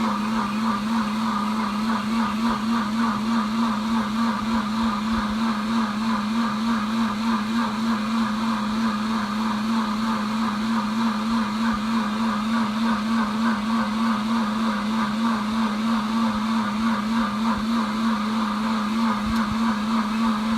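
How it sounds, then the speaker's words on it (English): A Pampered Chef Deluxe Cooking Blender runs its heated wash cycle, whirring with a loud, steady motor drone and sloshing water, unbroken from start to finish. "So this is just washing itself, and this part here is pretty warm, like it's just continuing to heat up"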